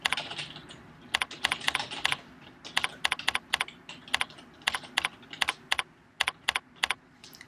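Bursts of keystrokes on a computer keyboard as a file name is typed, sharp close clicks in quick irregular runs with short pauses between, over a faint room hum.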